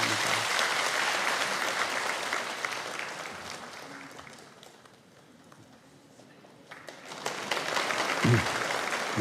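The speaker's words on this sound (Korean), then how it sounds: "우리 박수로 이 아이를 축복합니다" A church congregation at a Sunday worship service applauds to bless a child, a loud, sustained wash of clapping that dips briefly in the middle before swelling again.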